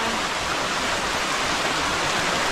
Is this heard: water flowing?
yes